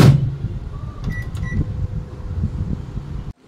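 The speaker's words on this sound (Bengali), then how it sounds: "আর এইখানে খাবার গরম করা চলছে। সব খাবার গরম করছি" A microwave oven reheating dinner gives a steady low hum with a brief beep of the door or controls near the start, ending in a sudden stop.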